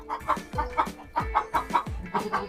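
Chickens cluck steadily in a coop on a cattle farm, short repeated clucks in an uneven rhythm, fairly close, with no talking.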